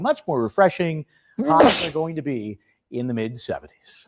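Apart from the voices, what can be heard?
sneeze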